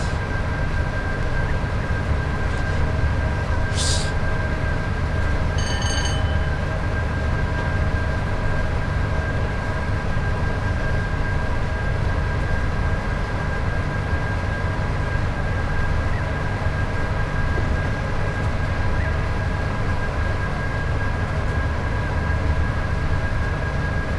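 Class 86 and 87 electric locomotives hauling the Glasgow Central to Paignton train over Shap on the West Coast Main Line, heard as a steady loud rumble and drone with a persistent tone and a brief high whine partway through.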